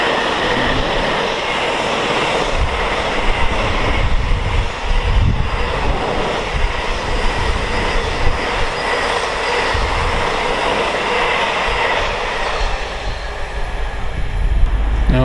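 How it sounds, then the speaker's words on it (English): A pair of DB Cargo class 90 electric locomotives hauling a freight train past a station on the West Coast Main Line at Tamworth, giving a steady, loud rumbling roar of wheels and wagons that holds throughout with no speech. "Double class 90 time now, working Moss End to Daventry."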